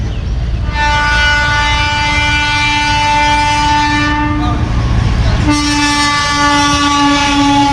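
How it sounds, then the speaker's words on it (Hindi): A train rolls past close by on the line to Hasimara in northern West Bengal, India, a steady rumble and rattle of wagons with a loud sustained horn blaring over it, the horn pausing and then returning. "आणि रेल्वे लाईन आहे इथं. रेल्वे येते आली आली आली आली"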